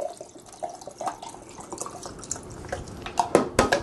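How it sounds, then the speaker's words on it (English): Water runs and drips into a lemonade container holding cucumber, with faint splashing and trickling building toward louder pours near the end. "I'm going to fill it up the rest of the way with water."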